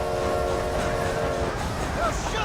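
A train in the game Red Dead Redemption rumbles and clatters along the rails while its horn sounds a sustained chord that fades out partway through, the rolling noise continuing loud underneath.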